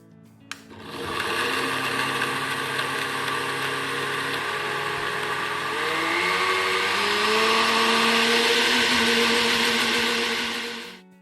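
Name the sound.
blender mixing cold coffee with sugar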